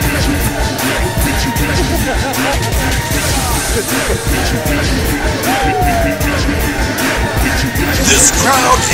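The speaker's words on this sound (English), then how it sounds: "This crowd is going crazy for Venom here tonight." A wrestling crowd at an EGCW Wired TV show cheers and yells steadily throughout, a dense wall of roaring voices with scattered whoops and bangs.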